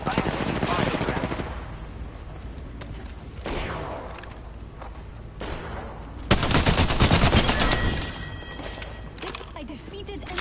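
Bursts of automatic gunfire in the video game Apex Legends crackle through a firefight, including a loud sustained volley near the end. Other shots sit farther off, with players talking over the action.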